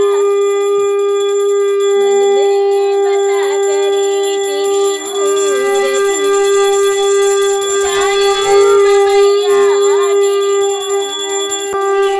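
A metal hand bell rung steadily during a Hindu puja at a home shrine, its bright sustained ringing continuous and loud throughout, with a soft voice faintly beneath.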